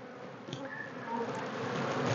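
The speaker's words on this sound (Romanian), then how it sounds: "Uite câte albine tinere, extraordinar." Young honey bees buzz at a hive frame during a beekeeping inspection, a soft, steady hum with the occasional louder insect passing close.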